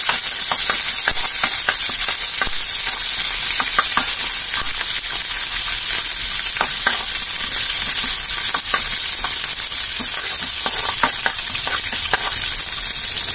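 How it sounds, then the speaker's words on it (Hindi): Curry leaves and green chillies fry in hot oil with mustard seeds, making a loud, dense, steady sizzle with many sharp crackles and spits throughout, close and with no voices. "अब मैं इसमें करी पत्ता, हरी मिर्ची थोड़ा सा फ्राई करूंगी।"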